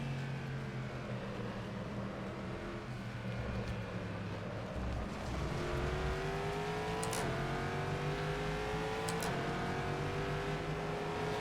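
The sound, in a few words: guttural V8 race car engine in the video game rFactor 2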